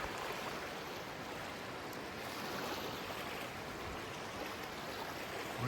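The New River in West Virginia flows past a small-pebbled bank, giving a steady, unbroken rush of water that stays constant throughout with no talking.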